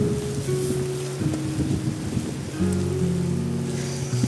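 Steady rain falls during a trek on Mount Aseupan in misty, foggy weather. The broadband hiss holds for the whole stretch, with wind buffeting the microphone and no talk.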